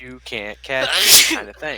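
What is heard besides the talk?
sneeze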